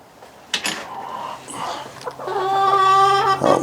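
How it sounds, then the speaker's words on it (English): Backyard chickens clucking and squawking at close range, scattered calls at first that build into a louder, drawn-out run of clucks and crowing-like cries toward the end. "Oh, we got some chickens down there."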